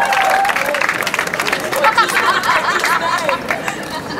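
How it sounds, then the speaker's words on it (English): An audience at a live magic show applauds after a trick, with clapping blended into excited chatter, laughter and crowd voices, loud and close throughout. "we'll give Eden a massive round of applause"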